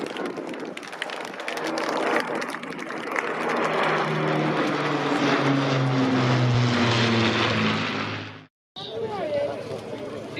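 A propeller aircraft flies aerobatics at the East Kirkby airshow, its engine droning loudly and steadily with a changing pitch under continuous commentary, before a sudden brief cut and a return of the engine noise.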